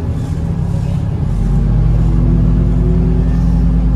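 Buses at a terminal on the Trans Jabodetabek B25 route idle with a loud, close, low engine rumble that swells and steadies as one revs, filling the space with continuous heavy drone.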